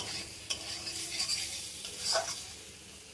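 A curry sautés in a pan with a quiet sizzle, broken by a few stirring scrapes and a light clink of a utensil against the pan, heard close and fairly soft with no voices.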